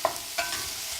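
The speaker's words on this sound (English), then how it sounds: "I'm going to give my onions a stir because I'm starting to hear them sizzle" Onions hiss and sizzle in a hot pan while a utensil scrapes and stirs them, two quick stirring scrapes over a steady close frying crackle.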